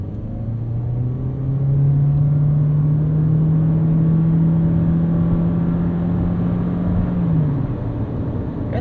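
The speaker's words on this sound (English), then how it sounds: "we'll just give it some throttle," A 2023 Toyota Corolla Cross Hybrid XSE with a CVT accelerates from a stop, its engine droning in a steady rising whine that holds for several seconds before easing off, heard from inside the cabin.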